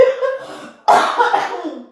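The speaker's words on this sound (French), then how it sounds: "excusez-moi, j'ai la toux" A close, sharp cough bursts out after a brief murmured voice, followed by a trailing rasp.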